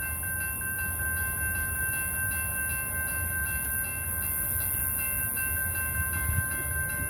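A BNSF freight train rolling past on the tracks, a steady low rumble of wheels and cars with a faint high tonal whine, continuous and moderately distant.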